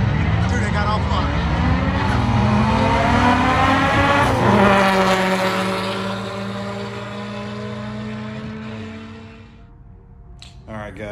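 A Mitsubishi Evo 9 makes a quarter-mile drag strip pass, its engine roaring loudly through rising gear pulls before the sound fades as the car moves away.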